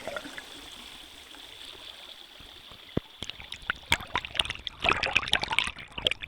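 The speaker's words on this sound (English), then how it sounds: "I place it on the stones with the water trickling above" Muffled underwater trickling and bubbling of water flowing over stones, steady and low at first, then busier with crisp clicks and bubbly pops building toward the end.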